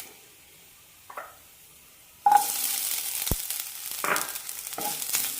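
Fenugreek seeds and grated coconut frying in a pan for sambar, where a quiet start gives way to a sudden, sustained sizzle with a few stirring scrapes and clicks, close and without talking.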